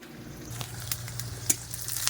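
A steady, close sizzle of chopped onions and panch phoron spices frying in hot oil in a wok, with light scraping taps of stirring scattered through it.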